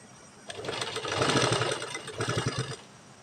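A sewing machine stitches the corner of a folded fabric strip shaped into piping for a kurti or suit neckline, running in two close, steady bursts with a short pause between them.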